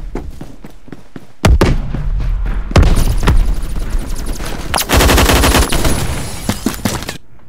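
Light machine gun fire in Phantom Forces, subway station map: loud, close sustained bursts of rapid shots with sharp booming impacts, broken by short gaps between volleys.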